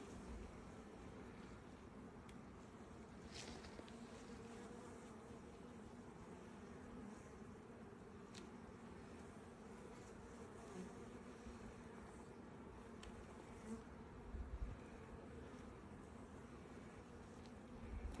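A dense, continuous hum of honeybees buzzing around an open hive during an inspection, a steady mid-level drone with a few individual bees passing close to the microphone.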